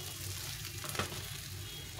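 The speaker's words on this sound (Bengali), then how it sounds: "মাছগুলো দেখো একদম ফ্রেশ ভাজা হয়ে গেছে।" Bata fish frying in oil in a home kitchen, a steady low sizzle and crackle running evenly throughout at moderate level, with one brief brighter pop near the middle.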